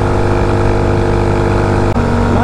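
A small motorcycle engine idles steadily at a slightly raised idle, close and loud with an even, throbbing drone, briefly cutting out for a moment near the end.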